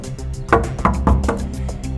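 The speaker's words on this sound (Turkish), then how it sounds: "Bir daha çal." Knocking on a door again in a drama scene, four evenly spaced firm raps in quick succession, close and fairly loud over a quiet background, with no voices.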